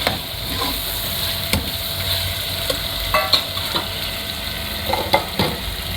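Keema aloo sizzles steadily in a hot pan as tomatoes go in, a close, continuous frying hiss broken by a few soft clatters and stirring knocks, with no one talking.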